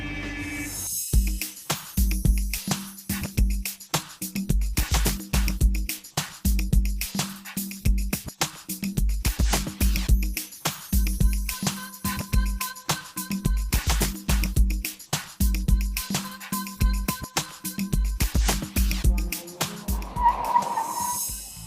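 Skoda Laura sedan out on a short test drive, with an irregular series of loud, sharp bursts and thumps over a low rumble throughout, ending in a brief softer stretch.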